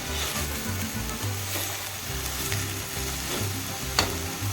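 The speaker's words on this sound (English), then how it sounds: "Now let's add the egg and slowly mix it through the greens till you get a nice scrambled egg texture." Egg is stirred through drumstick leaves in a hot pan, producing a steady sizzle with scraping stir strokes and a sharp clink near the end.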